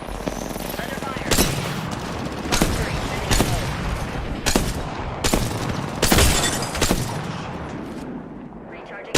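Bursts of gunfire crack out in a shooter video game, several loud sharp shots spaced a second or two apart over a busy background, with voices speaking in between.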